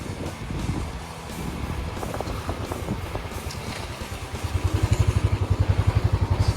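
A Bullet motorcycle rumbles along off-road over rough ground with wind buffeting and clattering, its engine pulsing louder and more rhythmically toward the end.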